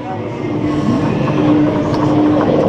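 Parc Astérix roller coaster train rolling over rain-soaked rails at night, a steady rumbling roar with a faint squeal, running continuously under nearby talk.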